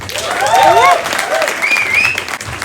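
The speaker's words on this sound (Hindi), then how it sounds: "आपकी तालियां साक्ष्य हैं इस नाटक के प्रदर्शन की प्रस्तुति" An audience applauds after a play at the Khidkiyaan 2025 theatre event, a dense, steady wash of clapping that runs the whole time while voices talk over it.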